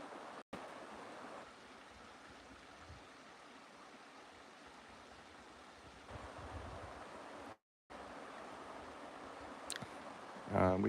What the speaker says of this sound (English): You probably hear the creek down below us.